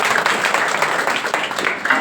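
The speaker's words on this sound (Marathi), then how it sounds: "जोरदार टाळ्या वाजवायच्या." Loud, dense applause from a crowd at a Marathi devotional kirtan gathering during a harinam saptah in Aurala, steady clapping filling the whole stretch without a break.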